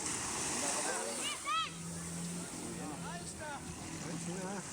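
A new bangka boat runs on open water. A steady engine drone mixes with the rushing wash of water, and voices or calls rise faintly over it at times.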